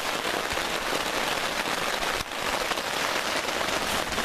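Steady rain patters on a tent fabric, dense and close, with a continuous hiss of drops and no talking.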